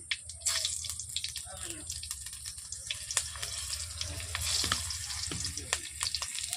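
Green chilies dropped into hot oil for ghugni sizzle and crackle steadily, with sharp pops and spits scattered throughout, close and fairly loud in a home kitchen.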